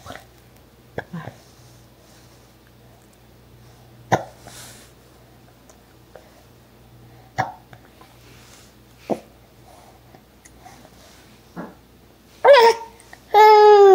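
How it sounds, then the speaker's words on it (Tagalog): Short, sharp hiccups repeat at irregular intervals of one to three seconds against near silence, followed at the end by a burst of babbling vocal sounds. "Sinok ng sinok."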